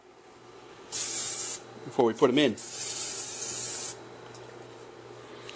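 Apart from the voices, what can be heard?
spraying olive oil onto hot grill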